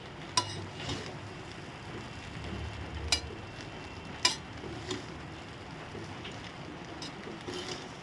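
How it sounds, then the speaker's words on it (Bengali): Food is stirred slowly in a pan over a low gas flame while cooking a vegetarian dish, a soft continuous sizzle with faint scraping and a few light clinks of the utensil against the pan, no talking. "দেখো এখন গ্যাসটা কমিয়ে আমি আস্তে আস্তে করে নেড়ে দিচ্ছি"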